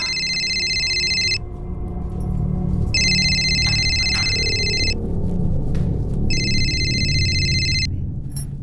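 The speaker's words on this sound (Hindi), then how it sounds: "तुम्हारा फोन बज रहा है।" A phone rings in three long electronic trilling bursts separated by pauses, over a low background hum.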